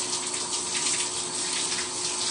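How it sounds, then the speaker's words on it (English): Shower water runs in a steady, full hiss while a cleaning rag is rinsed, close and continuous with no pauses and no voices. "Right now I'm going to the shower just to rinse off"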